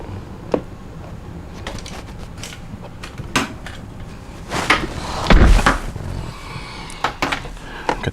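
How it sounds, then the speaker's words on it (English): A car door closes with one solid thud partway through, set among scattered clicks, creaks and handling noises inside the vehicle. "we're going to close the door"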